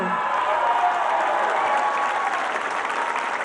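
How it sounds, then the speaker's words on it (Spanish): A crowd at a public event in Irapuato, Guanajuato, applauding government welfare program workers: a dense, steady wash of clapping that holds at full strength, close and loud, for the whole stretch. "Aplauso a las servidoras y servidores de la nación."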